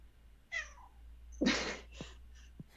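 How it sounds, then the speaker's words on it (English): A house cat meows a few times indoors, close and fairly clear, during a quiet podcast recording with a low hum beneath. "sorry, my cat's talking to me."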